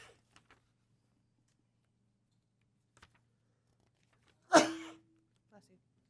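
A single sharp sneeze bursts out in a quiet hearing room during a utility rate case hearing, preceded and followed by a few faint clicks and taps.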